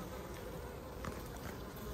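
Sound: honey bees buzzing on hive frame

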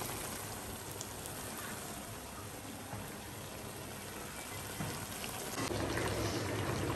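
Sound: mutton being fried with spices in a pan

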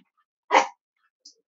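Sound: dog barking

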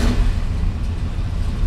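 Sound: engine of a 60-year-old car idling

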